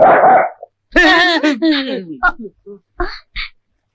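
A man in a Tamil comedy film imitates a dog, giving a short series of close, loud, voiced barks and yelps in uneven bursts, with a noisy burst of speech at the start.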